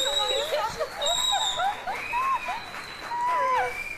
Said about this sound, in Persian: برنده مسابقه ما رو تشویقشون کنید